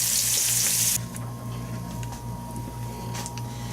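Bacon-wrapped shrimp frying in a pan, a steady close sizzle with a brief louder hiss at the start, no talking.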